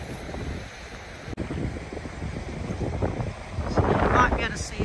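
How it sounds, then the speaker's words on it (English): Wind gusts steadily at a rocky coastline on Kangaroo Island, a broad rumbling roar buffeting the microphone and building louder toward the end, with a voice speaking briefly. "You can see by my hair it's a bit windy."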